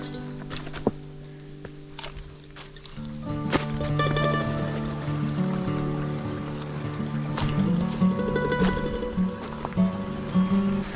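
A mountain creek on the trail to Paddys Falls near Mount Maroon flows over rocks, a continuous close rushing and trickling that strengthens midway, with a few scattered footstep knocks and no talk.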